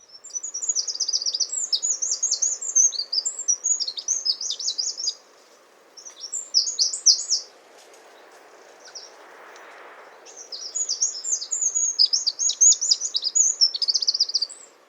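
A tiny songbird weighing only a few grams sings powerful bursts of rapid, high chirping trills, loud and close, broken by a couple of short pauses against a faint background hush.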